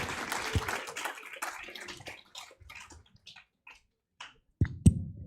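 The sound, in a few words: audience applause for the candidates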